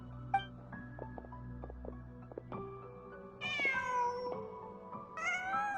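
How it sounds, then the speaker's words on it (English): A cat in a video game meows twice, with drawn-out, rising-and-falling cries midway and near the end, over steady tonal game music and soft ambience, with no talking. "Just a cat."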